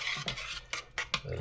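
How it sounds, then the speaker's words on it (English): Spoon stirring grouse soup with softening carrot in a pot, a few faint scraping strokes at an even rhythm, close and quiet. "Give that a stir like so."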